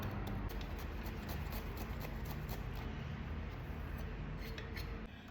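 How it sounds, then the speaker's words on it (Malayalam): Knife chopping bitter gourd for lunch: a fast, steady run of light, crisp ticking cuts close by, evenly repeated throughout with a faint background hiss. "ഇതാ പാവയ്ക്ക അരിഞ്ഞു കഴിഞ്ഞിട്ടുണ്ട്."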